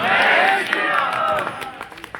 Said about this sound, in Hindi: जोरदार जयकारा लगाएं और ताली बजाएं